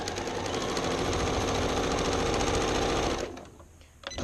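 A sewing machine stitches quilt fabric from a charm pack, running steadily and loudly up close for about three seconds before slowing and stopping, followed by a brief restart at the end.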